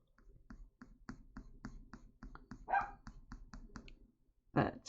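Mango the dog gives two short, muffled barks in the background, the second near the end, over a steady run of light tapping clicks nearby.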